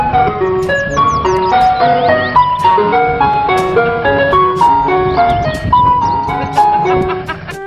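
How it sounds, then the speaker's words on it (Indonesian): Toy ice cream truck playing a bright, looping electronic jingle, a steady plinking melody with no pauses, loud and close throughout. "Di sini ada mobil es krim."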